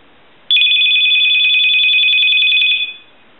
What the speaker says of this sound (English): it does ring a little louder than, I'm not sure if the video's picking it up